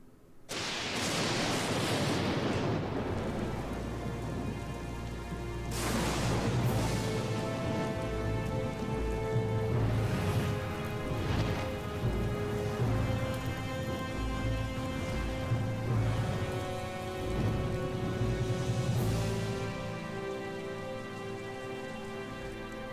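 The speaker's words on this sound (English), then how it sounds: "There was a thunderstorm on the way, and as the storm drew nearer" A steady, loud downpour of rain from Professor Layton vs. Phoenix Wright: Ace Attorney runs throughout, broken by several rumbling thunderclaps as the storm closes in, with a soft musical score beneath.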